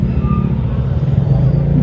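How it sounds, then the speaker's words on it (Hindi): Steady traffic on an expressway near a hilltop temple, with a continuous low engine rumble from passing cars that stays loud and even throughout. "तो ट्रैफिक बहुत सारी है।"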